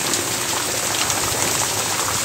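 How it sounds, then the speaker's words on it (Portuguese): Heavy rain pours steadily in Santana do Acaraú in the Brazilian sertão on Good Friday, a dense, loud, unbroken hiss of drops without pauses or voices. "Muita chuva em Santana do Acaraú."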